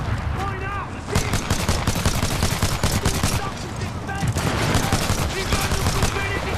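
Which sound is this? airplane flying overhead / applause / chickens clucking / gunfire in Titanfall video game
gunfire in Titanfall video game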